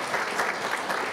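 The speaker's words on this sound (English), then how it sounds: "Please applaud for all these folks." Audience applause at a regional government awards ceremony, a steady burst of clapping from a seated crowd filling the room, fairly loud and even throughout with no talking over it.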